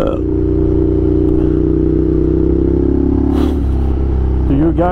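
A Ducati Scrambler 800 motorcycle ridden along forest roads, its engine droning loud and steady throughout with a brief rise in revs near the end, heard close up under wind rush.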